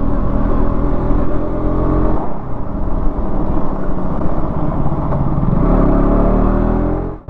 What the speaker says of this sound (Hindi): बाइक एकदम स्मूथ चल रहा है और रोड भी उतना ही अच्छा है